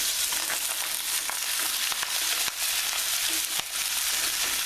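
Chicken and vegetables stir-fried with a spatula in a hot pan, a continuous close sizzle broken by sharp spatula scrapes and clacks at irregular intervals, with no talking.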